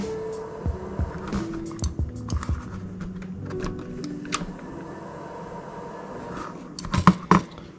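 A motor runs while its throttle is twisted wide open during a post-install throttle test, a close whirring hum whose pitch steps up and shifts, ending with a few sharp knocks and rattles.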